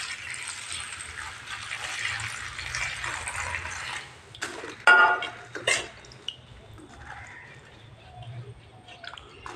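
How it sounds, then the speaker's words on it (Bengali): Hilsa fish and green banana pieces being rinsed in water, first as a soft running splash, then brief sloshes and clinks of a bowl in the middle, fading to quiet dripping near the end. "ভালো করে ডুলে ধুয়ে নেব"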